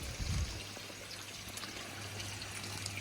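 Garden pond water sprays through a drum filter's spray bar during a cleaning cycle, a steady soft hiss and trickle with a brief low splash near the start, fairly quiet and without talk.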